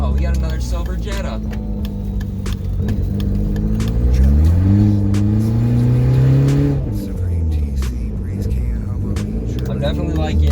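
A turbocharged Volkswagen Jetta engine drones steadily while driving, its pitch rising and falling through gear changes and a long swell of acceleration, loud and close, with a voice speaking over it.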